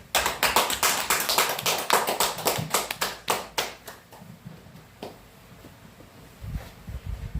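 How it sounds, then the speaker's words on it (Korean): A lecture audience gives a welcoming round of applause for the arriving lecturer, loud, dense clapping for about four seconds that thins into scattered claps and fades, with a brief swell of clapping near the end. "큰 박수로 강사님을 모시기로 하겠습니다."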